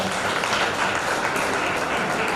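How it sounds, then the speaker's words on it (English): Audience applause at a positive psychology talk, a steady dense patter of clapping lasting a couple of seconds with no voices. "So big clap for Lawrence."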